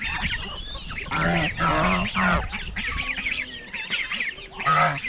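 Turkeys and chickens in a farmyard give loud, repeated honking gobbles and clucks, several birds calling over one another at close range.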